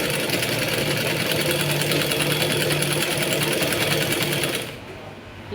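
A sewing machine stitching frills onto a chudi pant runs in a continuous close, loud mechanical whir for most of the clip, then stops abruptly near the end.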